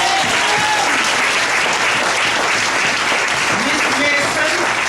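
A school graduation audience claps steadily for a teacher, dense and loud applause filling the hall from start to finish.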